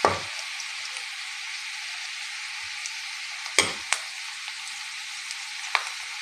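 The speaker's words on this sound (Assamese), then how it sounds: "এনেদৰে অকণমান লৰাই লৰাই ভাজি থাকোঁ।" Onions frying and being stirred in a pan, a steady close sizzle running throughout with a few sharp scrapes and clinks of the spoon, no voices.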